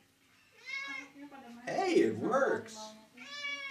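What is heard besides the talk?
cat meowing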